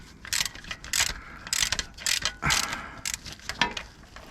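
A ratchet undoes the bolts on a 2015 Honda Civic 1.6 i-DTEC fuel filter, clicking in quick bursts of rapid pawl clicks with short pauses between strokes. The clicks are close and fairly quiet, and there is no talking.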